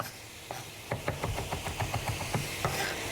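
A knife chops garlic on a cutting board in a quick run of about a dozen crisp, close taps, over a low steady background hum.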